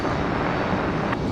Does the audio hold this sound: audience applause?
no